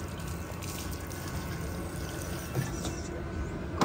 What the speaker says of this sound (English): Get your hose pipe. Quick, it's on.